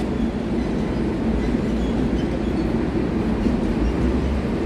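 A New York subway train on the N and R lines runs beneath Broadway at West 37th Street in the Garment District. It gives a steady, loud low rumble and roar that fills the whole stretch, with no talking.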